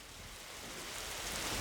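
Steady rain in the horror video game Nightmare Frames, a dense even hiss of falling water that swells slightly louder toward the end, with no voices.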